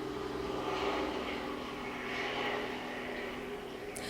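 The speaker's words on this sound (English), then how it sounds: "there's a helicopter that keeps going" A helicopter flying back and forth over the ocean gives a faint, distant engine drone that swells and fades gently, heard alone without talk.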